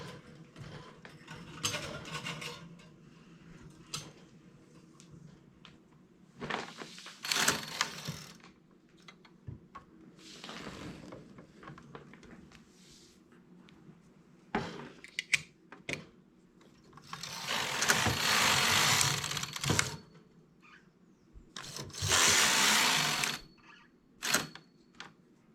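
A flatbed knitting machine carriage is pushed back and forth while knitting a plain finishing edge, giving intermittent clattering, ratcheting passes of a few seconds each with quiet mechanical clicks between, close by and without speech.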